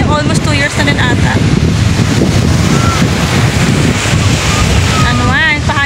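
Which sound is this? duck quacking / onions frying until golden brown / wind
wind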